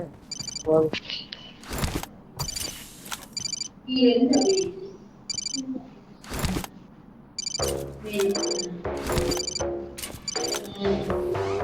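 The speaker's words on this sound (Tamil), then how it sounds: "ஏதோ ஃபோன் அடிக்குது" Phone ringtone repeating in short electronic bursts, loud and near, over background game sounds and brief talk during a BGMI mobile gameplay session.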